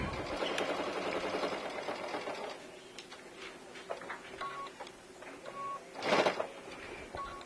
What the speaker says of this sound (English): Push that slide back to the other side and sew it down